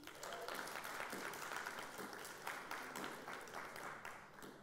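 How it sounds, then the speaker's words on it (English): Steady applause from an audience, a dense wash of clapping that holds evenly for several seconds. "A round of applause for your candidates."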